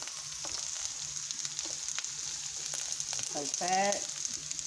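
Carrots and garlic sizzle steadily in a hot frying pan while fried cabbage is being made, a constant close hiss with a brief rattle as pieces drop in. A voice speaks briefly over the sizzle.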